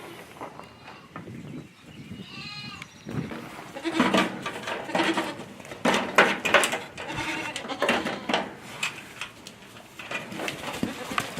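Goats bleat several times at close range, loud and wavering, among rustling and handling noises during hoof trimming.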